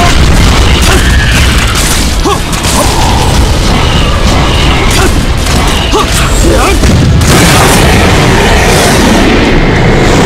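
Explosions and crashing impacts from the action video game Kritika rumble loudly and continuously, a dense barrage of booms and smashes throughout, with a voice speaking over the din.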